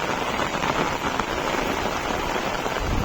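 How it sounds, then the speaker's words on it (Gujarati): Steady, dense rain hissing across a hard rooftop terrace, close and continuous with no voices. "વરસાદ વરસાદ ચાલુ થઈ ગયો હતો"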